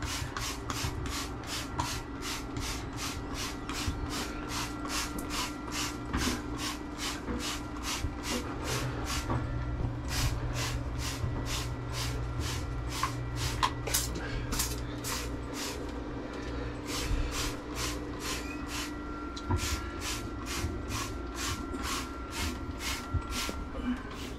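Rapid, regular bursts of cleaner spraying hiss repeat steadily in an Airstream shower, close up, with a few brief pauses and a low hum underneath.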